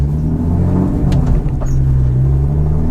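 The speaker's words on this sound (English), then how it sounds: "in front of the exhaust and the sound is so overwhelming" A BMW E28 with a swapped M50B25 engine, Schmiedmann headers and a 3-inch stainless exhaust rumbles loud and deep from close by, a heavy droning growl with slight rises in revs while driving.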